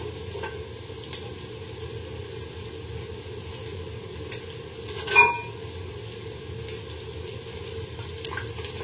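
Potato and semolina fingers stuffed with liquid cheese fry in oil over a medium flame, giving a soft, steady sizzle with one brief louder crackle partway through.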